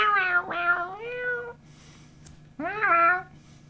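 A streamer imitates a cat with two drawn-out, rising-and-falling meows, the second after a short pause, close and fairly loud over a quiet background hum.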